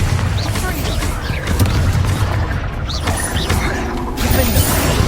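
Bombarda spell explosions in the Hogwarts Legacy video game boom and crash amid dense, continuous combat noise, with heavy bursts at several points, under a voice shouting spell names.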